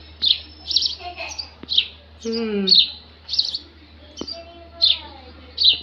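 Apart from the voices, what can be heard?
house sparrow chirping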